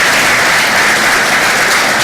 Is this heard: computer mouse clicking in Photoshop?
no